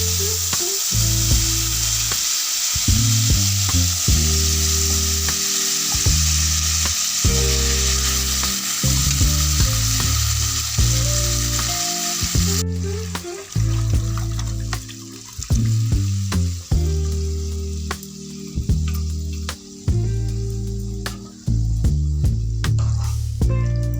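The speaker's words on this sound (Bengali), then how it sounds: "দেখুন স্যুপটা ফুটছে" Boiled chicken soup poured into hot white oil sets off a loud, continuous sizzle that cuts away halfway through, with a steady run of music notes underneath.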